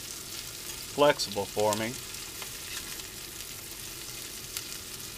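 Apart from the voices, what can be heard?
onions and jalapenos frying in olive oil on RV stove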